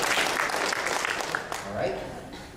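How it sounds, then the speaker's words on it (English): An audience applauds a volunteer called up to the front at a business opportunity presentation, a dense, steady wash of clapping over about two seconds that thins toward the end, with some voices in the room. "Let's give a round of applause for our volunteer."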